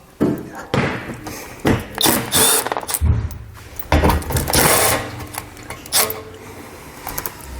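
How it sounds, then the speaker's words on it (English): Socket wrench removing 8mm bolts from the belly pan of a 2019 Jeep, with quick rattling mechanical bursts, clunks and pauses up close. "We're going to take an 8mm socket. We're going to remove the 2 bolts right down here on the bottom."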